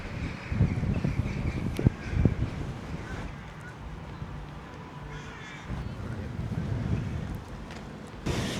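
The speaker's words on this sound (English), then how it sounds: "It is quite stormy today. Very windy, but the sun is shining" Strong, gusty wind buffets the microphone on a stormy but sunny day in Killarney town, Ireland, roaring in surges with a few faint birds in the background.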